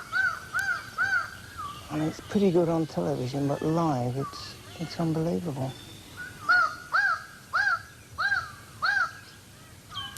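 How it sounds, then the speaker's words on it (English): Loud, repeated wah-like calls of a bird of paradise ring out in short bursts in a jungle, with harsh croaking cries between, under someone speaking. "that's the noise of the bird of paradise"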